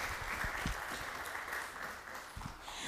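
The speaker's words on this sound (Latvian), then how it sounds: "vēl tiem aplausus!" Audience applause at the end of a talk on media literacy, a steady wash of clapping from a crowd at moderate distance, continuous throughout.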